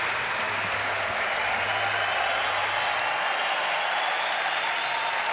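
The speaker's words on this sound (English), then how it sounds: "Listen to the roar of the crowd for both players." A squash match crowd roars and applauds in a sustained, loud wash of cheering and clapping that holds steady throughout, with no clear gaps.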